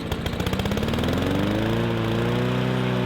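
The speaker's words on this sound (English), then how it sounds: "So I let off the choke manually myself, and she works fine." A Honda HRR216 lawn mower engine, after a carburetor clean and with the choke let off by hand, sputters unevenly before settling into a steady, loud running drone with a rising pitch, up close and with no talking.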